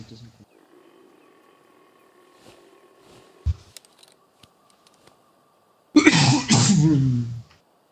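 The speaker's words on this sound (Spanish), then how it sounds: "Ay, qué tos." A single loud, harsh cough bursts out near the end after a quiet stretch, preceded by faint clicks and a brief low thump.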